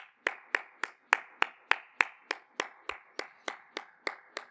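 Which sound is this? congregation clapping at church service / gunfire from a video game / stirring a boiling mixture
congregation clapping at church service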